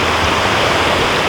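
Margret Creek near Margret Falls in Salmon Arm, British Columbia, a loud, steady rushing of flowing stream water, close and continuous with no other sounds.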